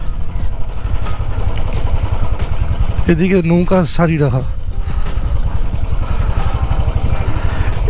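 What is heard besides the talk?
motorcycle riding along wetland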